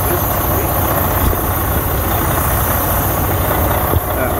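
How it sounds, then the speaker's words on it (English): A semi truck engine idles with a steady low rumble while a constant hiss from a leaking air dryer runs over it, close and loud, with a faint knock near the end. "I'm already hearing a leak."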